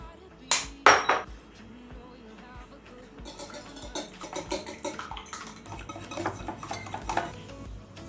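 Scone dough with raisins, egg and warm milk being mixed in a bowl, with a few sharp clinks of a utensil against the bowl at first, then a steady run of light scraping and tapping strokes.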